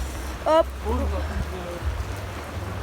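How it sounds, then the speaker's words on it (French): Heavy rain pours down at a strawberry fair in Samer, a steady wash of hiss under a brief exclamation and a few murmured voices. "Il pleut à verse."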